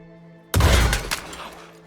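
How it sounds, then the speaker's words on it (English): Gunfire shattering chains in the Red Dead Redemption 2 video game: a sudden loud blast and burst of breaking metal after a quiet moment, then a second smaller crack and a fading ring. "Shoot the chains!"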